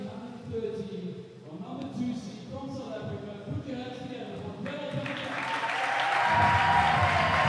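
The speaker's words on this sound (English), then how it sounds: "Big applause for the South African." At a squash final of the PSA BDO Namibian Open, crowd applause builds beneath an announcer's talk and grows into a fuller, sustained wash of clapping toward the end.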